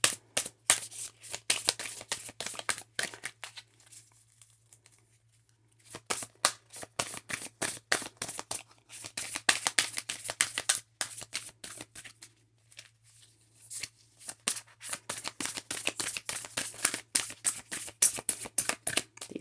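Tarot cards shuffled repeatedly in quick riffling bursts, crisp and close, with short pauses between rounds and a faint steady hum underneath.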